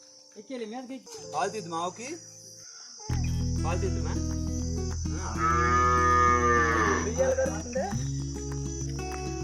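Cattle lowing in a village farmyard where the cows are tethered side by side: a long, loud moo that swells and bends in pitch, with people talking nearby and crickets chirping underneath.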